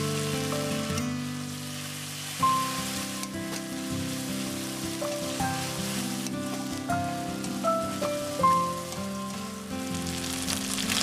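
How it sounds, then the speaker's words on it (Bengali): A paste of onion, garlic, ginger and chili sizzles steadily in hot oil for chana masala, a close, continuous crackle with occasional stirring, under a melodic music track and no talking. "এবার পেঁয়াজ, রসুন, আদা আর লঙ্কার বেটে রাখা পেস্টটাকে দিয়ে দেব। নেড়ে চেড়ে ভালোভাবে কষিয়ে নেব।"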